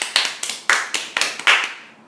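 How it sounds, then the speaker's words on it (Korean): About eight close, crisp hand claps in an uneven rhythm, each one sharp and ringing briefly before the next, with no other sound. "우리 이 시점에서 박수를 한번 보내야 합니다"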